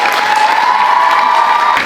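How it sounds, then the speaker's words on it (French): A school play audience at a Molière comedy applauds steadily, dense continuous clapping from a crowd, loud and close, with no speech over it. "On a encore besoin de vos applaudissements pour accueillir chaque membre de la troupe étoile."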